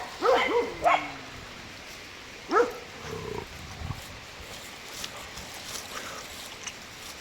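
A few sharp barks from a male dog ring out in the first three seconds, then outdoor background noise near a sheep flock continues with scattered faint sounds.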